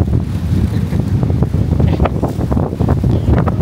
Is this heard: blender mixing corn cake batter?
no